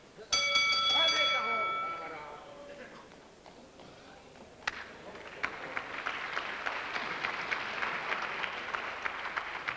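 A ringside bell clangs at a televised professional wrestling bout, a few bright strikes at the start that ring out and decay, followed by crowd applause and a commentator talking.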